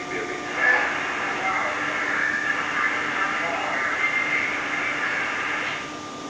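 Z subway train riding, a steady rumble and hiss of the car in motion with faint squealing tones, held at moderate level for several seconds beneath a muffled announcement.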